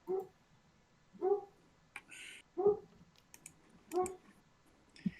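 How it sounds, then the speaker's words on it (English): An unhappy dog barks and whimpers in a steady series of about five short, fairly close calls, spaced roughly a second apart, with a few faint clicks between them. "Yeah, your dog doesn't sound happy."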